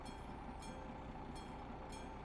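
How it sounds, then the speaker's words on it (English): In the Euro Truck Simulator 2 video game, a short train rolls past with a rumbling drone and a few regular clicks of wheels on rail joints, faint and steady, with no speech. "That is a very short train,"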